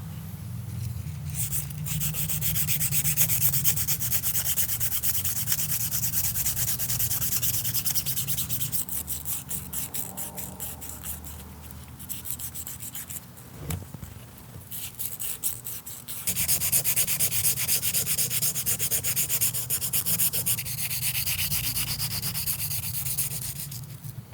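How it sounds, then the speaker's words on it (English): Rust and debris being scrubbed off Land Pride slip clutch parts, a steady abrasive sanding and rubbing sound that runs nearly the whole time with brief pauses, close and loud. "Next, we're gonna clean up the rust and debris off of all the surfaces."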